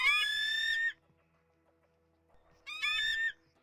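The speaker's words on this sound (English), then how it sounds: "It is making a cuckoo sound. That is a cuckoo. It is known for its cuckoo call." Two separate bird calls with a harmonic, tonal cuckoo-like quality, each under a second long and clear, with a short silent gap between them.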